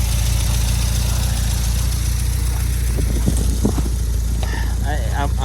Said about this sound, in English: Motor sounds really good.